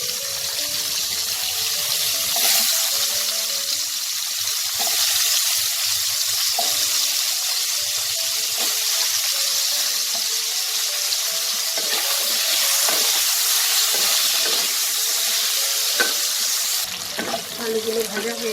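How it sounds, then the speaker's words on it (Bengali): Potatoes fry in hot white oil with a loud, continuous hissing sizzle like rushing water, close up, with occasional scrapes and taps over the steady wash of noise. "এবার এই তেলে আমি আলুগুলোকে একটু ভেজে নেব।"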